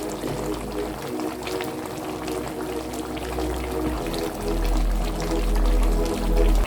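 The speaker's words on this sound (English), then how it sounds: "So now I'll be adding a bit of water to this." Water splashes and gurgles as it is poured into a pot of meat for Nigerian pepper sauce, a steady close pour that grows slightly heavier toward the end.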